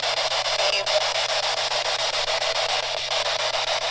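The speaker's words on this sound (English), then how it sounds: "You hear that little squeal in it? That's what I don't like about this box." A P-SB11 spirit box radio sweep makes a steady electronic hiss with a thin high squeal running through it, sweeping in fast regular pulses, with a low hum underneath.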